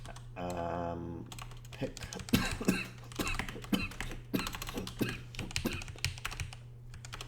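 Code is typed for a VB.NET software development project on a computer keyboard, with close, quick irregular key clicks in bursts after a brief spoken word, over a low steady hum.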